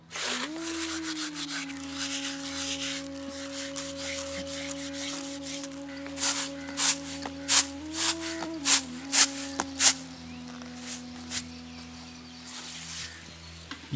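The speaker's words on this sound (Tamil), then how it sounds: "இந்த மாதிரி எள்ளு தேய்க்கும் போது எள்ளு மேல இருக்க தோலை தனியாக பிரித்து எடுத்துடலாம்." Roasted sesame seeds are rubbed by hand to strip their husks, making a run of soft, gritty rubbing strokes in the middle over a steady low background hum.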